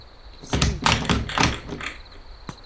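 A run of wooden knocks and thumps as a door swings open in Evil Nun 2, followed by a single faint tap.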